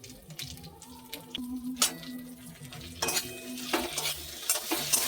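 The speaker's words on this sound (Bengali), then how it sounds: "দিয়ে আরও কিছুক্ষণ ভেন্ডিটা ভেজে নেব" Okra (bhindi) fried in a pan with salt and turmeric: a low, steady sizzle sits under repeated scraping and stirring, with sharp clinks of a metal spoon against the pan coming and going close by, and no one speaking.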